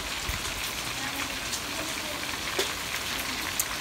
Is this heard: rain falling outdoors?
yes